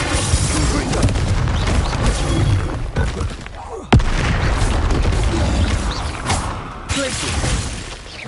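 Confringo fire spells burst in dense, booming explosions during Hogwarts Legacy combat, with loud overlapping blasts and crackling debris that continue almost without pause, including a sharp crack near the middle.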